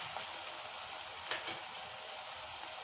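Ginger garlic paste frying in a pan, a steady soft sizzle with faint stirring clicks, close and fairly quiet with no voices.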